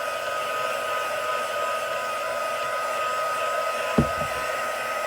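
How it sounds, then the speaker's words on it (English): A craft heat gun blows hot air to heat set crafting material, a steady even whooshing hum that runs throughout, with a brief clack near the end and no talking. "I'm going to heat set that itself with my hot gun"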